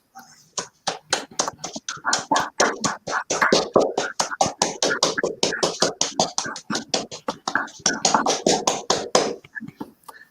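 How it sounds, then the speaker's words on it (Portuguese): Rhythmic hand claps, many in quick succession over about ten seconds, lead the applause for medicine at a closing ceremony of an academic medical conference at the Barbacena Faculty of Medicine, with a loud, close, steady and slightly uneven beat. "uma salva de palmas a todos esses heróis da medicina e à Faculdade de Medicina de Barbacena e a 13ª JAB"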